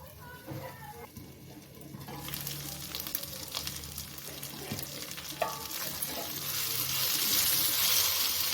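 Half-cooked brinjal in a pan on a gas flame, stirred with scraping and tapping strokes over a gentle sizzle that swells into a louder hiss toward the end.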